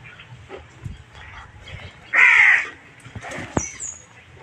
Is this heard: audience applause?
no